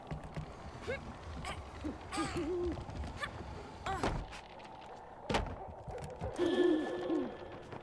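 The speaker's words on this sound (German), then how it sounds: "Haben wir noch eine Eule gefunden." Several owl hoots ring out over a quiet night landscape, spaced unevenly and moderately loud, with faint background noise between calls.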